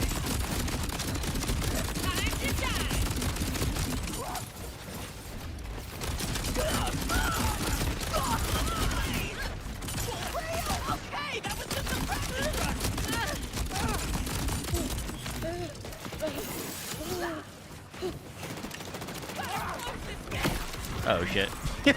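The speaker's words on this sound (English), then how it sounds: "Let's try the flea bag in this other weapon." In the shooter Borderlands 4, weapons fire in dense, continuous bursts, with rapid overlapping gunfire and mechanical clatter throughout, while a voice talks over the action.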